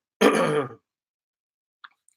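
One close, raspy throat clearing, brief and fairly loud, then near silence with a couple of tiny faint clicks.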